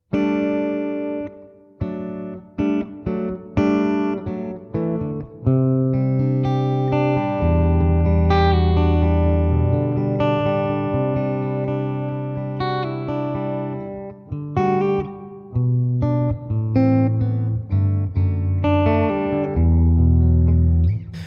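An electric guitar on the bridge pickup plays single notes and chords through a Fender Deluxe Reverb tube amp, warm and slightly driven, with sustained ringing notes and short pauses between phrases.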